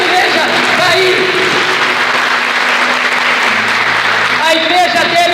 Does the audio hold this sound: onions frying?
no